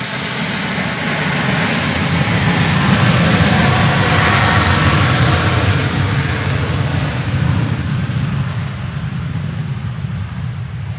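Cessna L-19/O-1 Bird Dog piston aircraft engine droning steadily and loudly throughout, a continuous low rumble with no talk over it.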